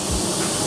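A spray gun set around 28 PSI lays clear coat onto a car panel, giving a steady, close, loud hiss of atomised paint that runs without a break through the short moment.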